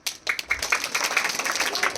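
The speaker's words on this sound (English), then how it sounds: "Clap for ma'am." An audience at a school event breaks into steady clapping that starts abruptly and continues densely to the end, loud and close.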